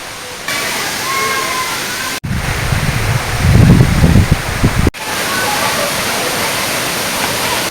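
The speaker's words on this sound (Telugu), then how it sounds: "జలపాతం చేరుకునే దారిలో కుడివైపు సెలయేరు ప్రవాహంతో పాటు చిన్న చిన్న జలపాతాలు కనిపిస్తాయి" Rampa waterfall near Maredumilli, Andhra Pradesh, pours in a loud, continuous roar across several abruptly cut segments, with a voice speaking over the rushing water in the middle stretch.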